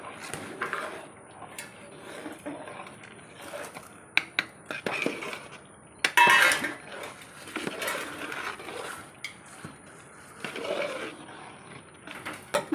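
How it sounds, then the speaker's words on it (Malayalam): A beef rice dish being stirred in a pot with a utensil, giving irregular scraping clinks and metallic knocks at close range, with no talking. "ഇളക്കി കൊടുക്കാം."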